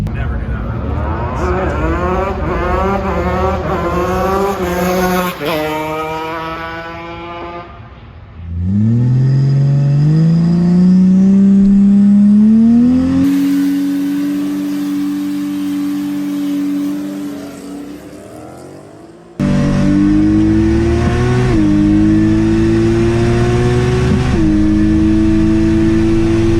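A drag car makes its first run of the day at a drag strip: the engine revs hard and climbs through the gears in loud, rising sweeps, cuts back, then roars again. The sound is close and fills most of the clip.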